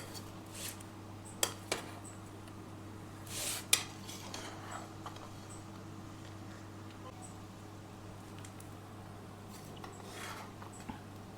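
A utensil stirs crab and chicken biryani in a pot, giving faint scraping and a few sharp metallic clinks against the pot over a steady low kitchen hum.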